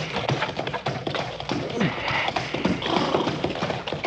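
A horse gallops away with rapid clip-clopping hooves, loud and busy throughout, mixed with other scene noise and faint voices.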